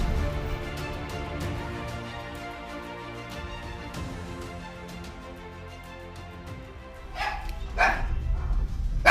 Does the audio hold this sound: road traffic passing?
no